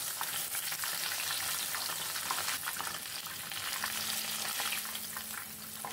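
Tofu and tempeh fry in a pan as they are flipped, giving a steady close sizzle with occasional scraping from the turning, and no one speaks.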